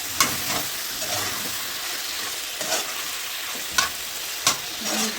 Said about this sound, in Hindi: ये फ्राई हो रही है थोड़ी